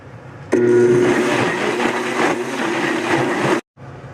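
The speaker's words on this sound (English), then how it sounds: "Okay, I'm going to blend it. It's going to be loud." A countertop blender whirs through chocolate cream pie filling cooked with agar-agar, starting abruptly at full speed with a steady loud motor drone and churning, then cutting off sharply after about three seconds.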